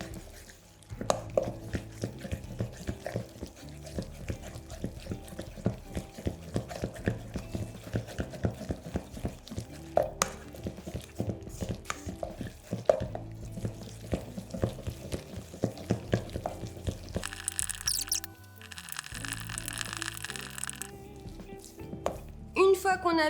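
Eggs are beaten into a batter for a strawberry-basil charlotte with a fast, steady rhythmic tapping and slapping that continues throughout, changing to a brighter, fuller churning for the last few seconds.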